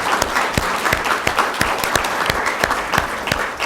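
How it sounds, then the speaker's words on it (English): Audience applause at the close of a city council candidate forum: steady, sustained clapping from a room of people, crisp individual claps blending into an even patter for several seconds. "another round of applause for the candidates"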